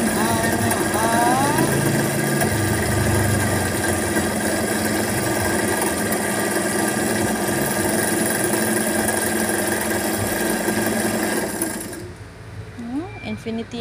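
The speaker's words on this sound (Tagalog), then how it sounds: "Ani na ito sa singer sewing machine." A Singer electric zigzag sewing machine on a table runs with a steady, fast mechanical whir and rattle, loud and near, stopping shortly before the end; a voice talks over it.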